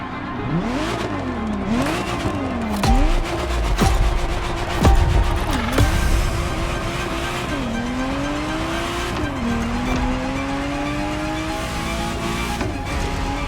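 A Ferrari Testarossa in The Crew Motorfest racing game, its engine revving repeatedly up and down through gear changes, with tire squeal and a steady loud drive, up close and continuous.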